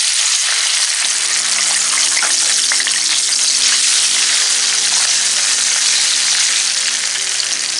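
Onion paste for prawn malai curry hits hot oil with fried cardamom in a pan, producing a loud, dense, continuous sizzle close up.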